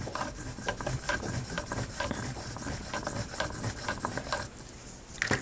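A groomer's texturizing shear is drawn across a Flathone sharpening stone with grit on it, giving a continuous close rasping scrape with repeated short strokes and no talk.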